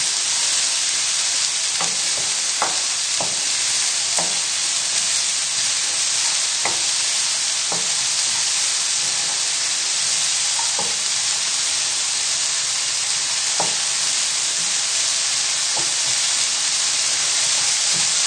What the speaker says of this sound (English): all we're doing here is just cooking down the vegetables just for a minute, just to take the raw flavour of the onion out